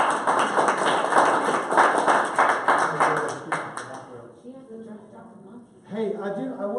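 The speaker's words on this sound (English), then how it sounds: "Let's give her a round of applause." An audience applauds with a dense patter of clapping that fades out, and voices talk over and after it.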